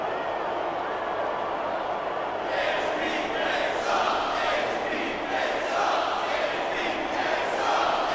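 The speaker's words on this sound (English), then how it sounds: "listen to that chant" Crowd chanting in the WWE SmackDown vs Raw 2006 wrestling video game, a dense arena roar that swells after a few seconds into rhythmic loud chanting, with commentary voices mixed in.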